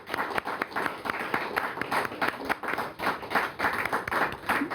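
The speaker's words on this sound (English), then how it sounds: "we want to give a big clap to her because it's an honor that we have her finally as our chief of police" Audience clapping for a police chief at a domestic violence vigil in Brookline, a lively outdoor round of many hands with distinct sharp claps, moderately loud and sustained.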